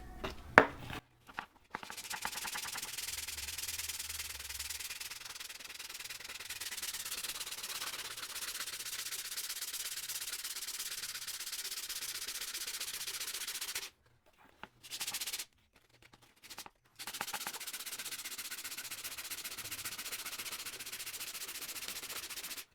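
Hand sanding of automotive body filler to a smooth finish: a steady, close, dry scraping rub that runs almost continuously, with a few short breaks near the end.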